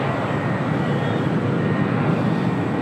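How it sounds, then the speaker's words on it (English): A FedEx MD-11 aircraft being pushed back at LAX, heard as a steady loud broadband roar of airport engine noise with no distinct changes. "they're pushing back a FedEx MD-11"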